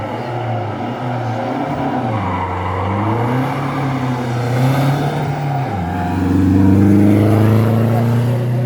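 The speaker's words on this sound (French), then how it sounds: "Allez, on envoie les camions." Race truck engines roar loudly and steadily at the start line of a French hill climb, the pitch rising and falling as the trucks rev, with a louder surge near the end.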